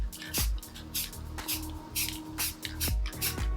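Rust-Oleum black spray paint hisses from a can in several short, loud bursts with brief pauses between them, laid down for spray paint art.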